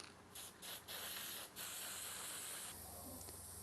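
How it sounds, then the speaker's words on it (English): Short bursts of copper spray hiss from an aerosol can onto OEM GM header gaskets in a garage during an LS1 swap into a 240SX. Several quick puffs are followed by a longer continuous spray, all close and fairly quiet. "We like to coat our OEM GM gaskets with a little bit of copper spray before we install the headers."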